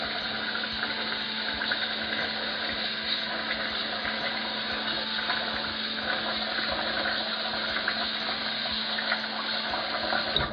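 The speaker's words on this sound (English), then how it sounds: "first I'm going to put some water in the rice" Tap water runs steadily into a pot of sushi rice at a sink for rinsing, a continuous rushing stream close by with no voices.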